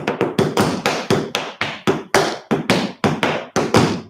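Tap dance steps with a scuff in a class: sharp, close, crisp taps in a steady, swinging rhythm of about a dozen strikes, each ringing briefly before the next, with no talking.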